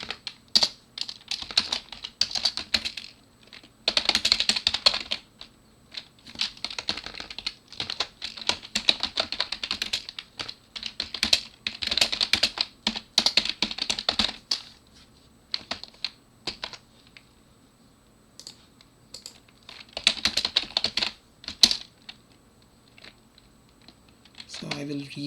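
Fingers typing on a computer keyboard in bursts of rapid clicking with short pauses, close and clear, while making edits in a Git tutorial.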